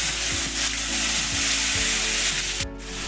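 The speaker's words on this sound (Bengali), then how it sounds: "ফোড়নের মশলাটা ভাজা হয়ে গেছে, এখন আমি দিয়ে দিচ্ছি টমেটো বাটা" Tomato paste sizzles loudly in hot oil tempered with whole cumin, dried red chillies and bay leaf for a bhetki fish curry, a dense close hiss over a low steady hum that drops off abruptly near the end.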